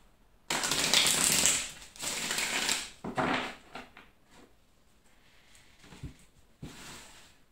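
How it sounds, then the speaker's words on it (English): Tarot deck being shuffled for a Virgo love reading: two long loud riffling bursts up close, then shorter scattered slaps and taps as the cards settle, trailing off into near quiet. "One last shuffle."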